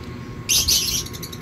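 A Green Opaline Split Ino lovebird in an aviary gives one short, bright chirp burst lasting about half a second, clear and fairly close against a low background hum.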